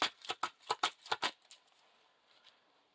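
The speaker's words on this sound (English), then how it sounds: "Shuffle that back into the deck." A deck of playing cards for a Lord of the Rings card game is shuffled, giving a quick run of about eight crisp riffling snaps close by before trailing off into quiet.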